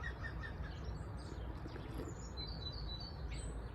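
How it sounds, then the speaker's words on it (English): Many birds chirp and tweet together outdoors, a busy chorus of calls over a low, steady rumble of background noise. "Loads of birds around this morning. It sounds like I'm in an aviary or something."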